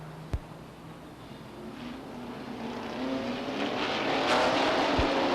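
Stock race cars roar around Beech Ridge Motor Speedway during a 1989 ACT Rowell Insurance 100 race, the engine drone swelling steadily louder as the pack approaches, with a couple of sharp knocks along the way.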